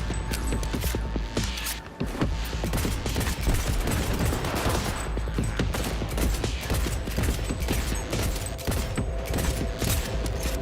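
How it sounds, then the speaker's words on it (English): Rapid, dense pistol gunfire from Cyberpunk 2077 Phantom Liberty, loud and continuous, with sharp repeated shots layered over game music and mechanical clatter. "This pistol was doing serious damage."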